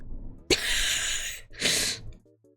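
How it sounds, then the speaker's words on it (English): A single odd, breathy sneeze bursts out close and loud, a sharp onset followed by a second rushing exhale, with a faint tonal electronic chime trailing at the end. "That was a weird ass sneeze."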